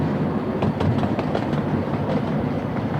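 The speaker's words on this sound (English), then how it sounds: "But this is a beautiful railway." A miniature railway train runs along the track with steady clickety-clack wheel rhythm and a continuous rumbling rolling noise, close and loud, with no voices.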